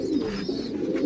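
Pigeons coo steadily in a breeding loft kept for a pigeon-flying tournament, a low rolling murmur from several birds close by with no talking.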